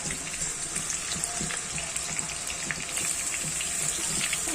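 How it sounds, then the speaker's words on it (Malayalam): Steady crackling sizzle of masala-coated tuna frying in oil, with a constant bright hiss and scattered soft pops, fairly close and continuous throughout. "രണ്ട് ട്രിപ്പായിട്ട് നമുക്ക് വറുത്തെടുക്കാം"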